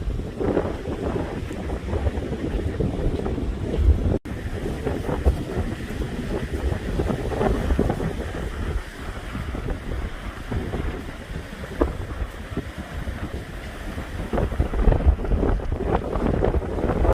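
Strong wind buffets the microphone on the beach at Marco Island near Tiger Tail Park, a constant rough rumble with waves and surf breaking underneath, continuous and loud throughout with no talk.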